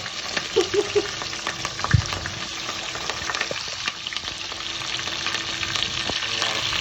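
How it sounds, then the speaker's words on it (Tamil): Steady sizzling and crackling of cloves and cumin frying in hot oil for pork curry, continuous and close, with a few light stirring knocks; no talking. "கராம்பு சீரகம் நல்லா பொரிக்குதுண்ணே"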